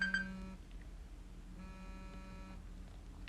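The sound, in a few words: alarm beeping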